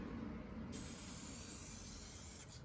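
Clear coat sprayed from an aerosol can onto aftermarket vent covers for a 2000-06 GM vehicle, a steady close hiss running continuously through the clip with a brief change near the end, no talking.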